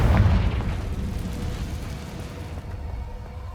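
A Confringo spell explosion in Hogwarts Legacy hits as a loud, deep boom at the start, then rolls off into a fading rumble.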